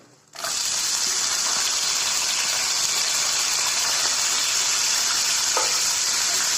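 Ginger and curry leaves for pongal hit a hot pan and break into a steady, close sizzle of frying that holds evenly throughout, with no talk.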